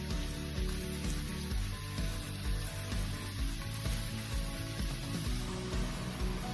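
Medium-sized mixed-nut pakoda fritters, made for Diwali, fry in hot oil with a loud, even sizzle and crackle, while soft rhythmic stirring or scraping repeats underneath.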